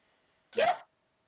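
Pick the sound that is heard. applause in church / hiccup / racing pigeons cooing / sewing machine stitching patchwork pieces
hiccup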